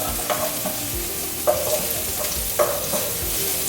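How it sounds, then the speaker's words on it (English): Garlic and peppers frying in a pan for Thai pad ka prao, stirred with a few scraping strokes over a steady close sizzle, with louder clacks of the utensil around the middle and late in the stir. "Okay, give it a nice stir. Nothing crazy. Check up on our garlic and peppers."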